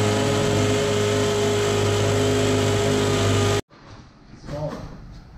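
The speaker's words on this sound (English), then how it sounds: "I'm about to drill through this." Power drill boring through a brick exterior wall at a patio TV installation in Frisco, Texas: a loud, steady high-pitched whine runs without a break for several seconds, then cuts out abruptly, leaving quieter low noises.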